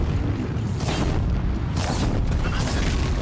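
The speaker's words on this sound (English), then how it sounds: "That was an unexpected explosion." Explosion in Horizon Zero Dawn: a sustained loud, rumbling low-end boom with crackling debris, continuous across the clip at close range.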